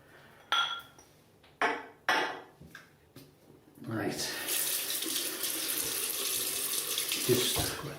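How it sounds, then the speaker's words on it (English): Tap water runs steadily from a faucet to wet a shaving brush for a straight-razor-style wet shave with natural Irish soap, a continuous close hiss after a few short knocks and handling sounds. "just wet the brush and off we go."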